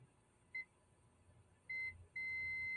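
A high electronic continuity tester buzzer beeps three times while checking an LED TV circuit board, first a short blip, then a longer tone, then a sustained one, clear over faint background hiss.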